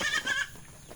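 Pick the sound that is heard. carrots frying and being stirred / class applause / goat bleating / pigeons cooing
goat bleating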